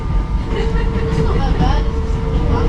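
An old mountain train rolls backward along the track, a loud steady rumble of wheels and carriage noise with faint squeals, while people talk over it close by.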